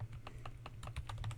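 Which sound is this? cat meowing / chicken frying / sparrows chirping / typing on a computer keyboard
typing on a computer keyboard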